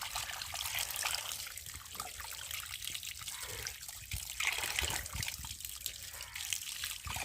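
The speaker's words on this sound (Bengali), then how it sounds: "জল দিয়ে মাছটাকে এখন ধুবো" Tap water runs continuously over raw mrigal fish as it is washed, making a close, steady splashing trickle with no voices.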